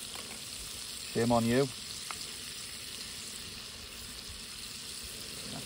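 Steaks sear in a pan outdoors on the shoreline of Holy Island of Lindisfarne at sunrise, giving a steady close hiss throughout, briefly overlaid by a man's short spoken remark.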